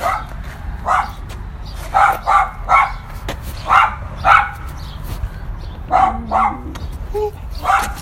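A dog barks repeatedly at close range in short, uneven bursts, with a few softer whimpering yips in between.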